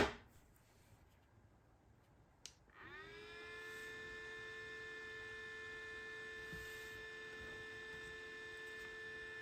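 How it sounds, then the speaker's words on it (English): An Aecooly PM02 portable handheld misting fan starts after a quiet stretch and a click, its motor spinning up to a steady whirring hum with a high whine that holds evenly, faint and close. "Now, we turn the fan on."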